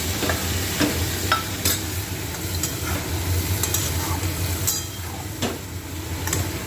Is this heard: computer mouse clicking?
no